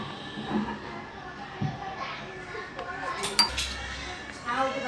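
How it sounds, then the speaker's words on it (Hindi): Dishes and utensils clink and clatter while being washed in a home kitchen, in scattered short metallic knocks at a moderate distance, under people talking. "इधर भाभी बर्तन साफ़ कर रही हैं, इसीलिए बर्तन की आवाज़ आ रही है।"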